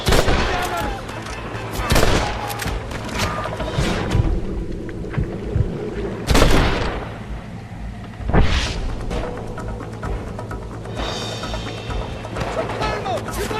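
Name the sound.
gunfire from a shootout in the video game Red Dead Redemption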